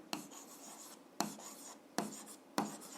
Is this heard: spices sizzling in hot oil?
no